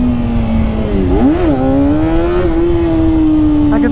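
Close, loud revving of a Honda CBR250RR MC22 four-cylinder 250 motorcycle during wheelie attempts, a high screaming engine note that dips and rises sharply once before holding steady.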